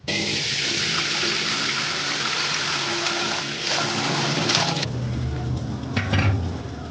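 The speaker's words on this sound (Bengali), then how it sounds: "এবার এতে একটু ঠান্ডা জল দিয়ে দিই" Cold water pours steadily from a tap into a pot of freshly boiled eggs in a home kitchen, a loud continuous splashing rush that changes tone partway through.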